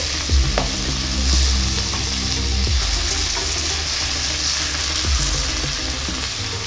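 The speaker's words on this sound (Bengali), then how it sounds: "এবার অপর পিঠটা ভেজে নিচ্ছি।" Pieces of boal fish, flipped to their second side, fry steadily in a pan for a spicy green-chilli curry. The sizzle is loud and continuous, with a few brief clinks and stirring knocks, and nobody speaks.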